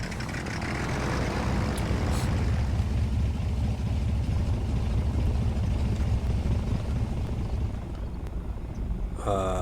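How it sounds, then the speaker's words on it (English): A monoplane's propeller engine in a realistic flight simulator game drones loudly and continuously at an airfield, a steady low rumble that eases slightly just before the end. "As usual, we have to start the engine."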